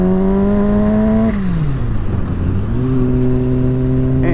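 A turbocharged Yamaha FZ1 motorcycle engine revs loudly while being ridden, its pitch holding steady, dipping low as the throttle eases, then climbing back to a sustained higher whine, close and continuous throughout.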